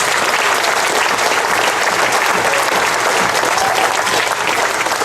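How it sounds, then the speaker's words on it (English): Sustained applause from an audience at a high school sports awards ceremony, steady dense clapping throughout with no letup. "So one more round of applause"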